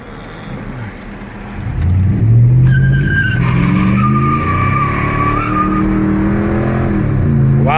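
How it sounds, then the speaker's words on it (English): A car with automatic transmission fluid in a cold test accelerates hard, engine rising in pitch then dropping at a quick gear shift before climbing again, loud and close, with a tire squeal near the start. "Wow, that shift is fast."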